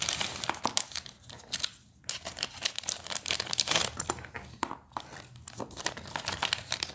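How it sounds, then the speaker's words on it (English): Pieces of Dominican amber are pulled out of a plastic bag, giving close, quiet crinkling and rustling that rise and fall in irregular bursts with a couple of short pauses. "let me take them out of the plastic bag so you can really appreciate their color"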